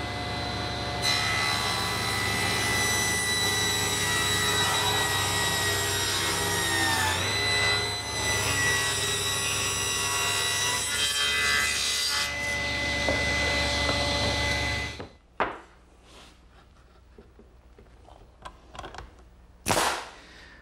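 A power saw rips a 2x4 lengthwise at a 22.5 degree angle, a loud, sustained whining cut lasting about fifteen seconds before the blade winds down, followed by a few sharp knocks of wood.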